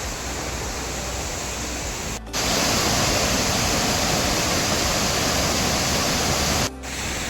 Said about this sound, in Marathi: हा इकडे हा मोठा वॉटरफॉल